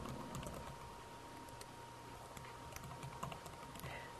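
Typing on a computer keyboard while entering text labels and numbers for a pie chart in Microsoft Word 2007, a faint, irregular patter of key clicks over a steady background hum, close and quiet.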